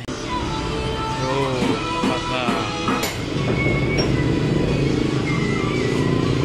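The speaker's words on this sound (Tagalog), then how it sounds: "puputulin na ni kuya yung stock nating tambutso dyan. Ayan, i-grind na niya." An angle grinder cuts through the stock exhaust of a Rusi KRY 200 motorcycle, producing a loud, continuous harsh whine with shifting screeches and squeals early on, then a steady grinding roar.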